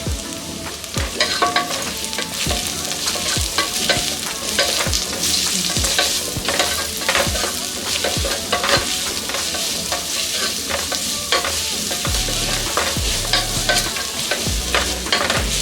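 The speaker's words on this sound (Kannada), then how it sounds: "ಈರುಳ್ಳಿ ಲೈಟಾಗಿ ಕಲರ್ ಚೇಂಜ್ ಆಗೋ ತನಕ ಇದನ್ನು ಹುರ್ಕೊಳ್ಳೋಣ." Onion with ginger garlic paste frying in a pan for spinach rice, a steady loud sizzle under busy rhythmic spoon stirring and scraping with frequent sharp clicks against the pan.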